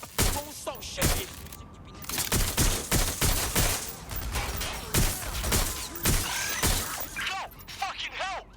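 Police open rapid gunfire in the Watch Dogs Legion game, with dense bursts of sharp shots, cracks and shattering impacts that continue throughout while voices shout over the shooting.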